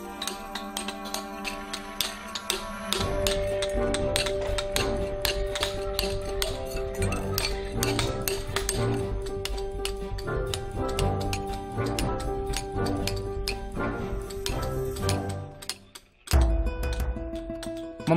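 Rapid metallic taps of hammer on chisel carving stone in a village stone-carving centre near Borobudur, Indonesia, a dense steady clinking run lasting most of the stretch with a tonal ring underneath, pausing briefly near the end.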